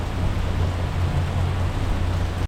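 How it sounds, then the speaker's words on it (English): Heavy rain pours down steadily in St. Joseph's, a dense, unbroken hiss of downpour with no talking and an abrupt cutoff at the very end. "It's pouring rain"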